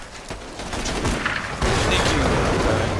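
Gunfire from the video game Borderlands 2, a dense burst of shots with booming impacts building over a few seconds, loud and up close in a noisy co-op firefight.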